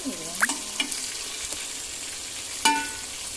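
Pieces of fish fry in oil in a wide pan with a steady sizzle, while a few sharp clinks and scrapes come as the pieces are turned.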